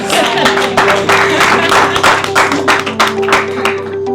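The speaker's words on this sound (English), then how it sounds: "Clap for him." Audience applause at a business talk on boardroom leadership: a dense, steady wash of clapping that fills the whole stretch at close range, with a constant electrical hum underneath.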